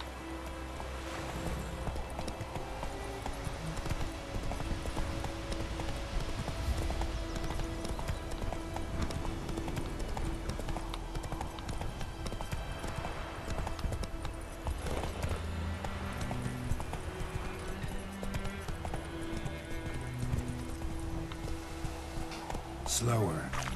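Steady rhythmic clip-clop of horse hooves from The Witcher 3: Wild Hunt, running continuously under game music and background noise, with voices talking now and then.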